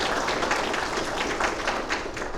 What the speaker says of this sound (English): a quick round of applause to them